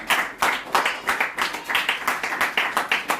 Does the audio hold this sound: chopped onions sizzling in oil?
no